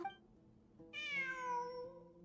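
A cat in a video game meows once, a clear rising-then-falling harmonic cry that starts partway through and trails off over a low background hum.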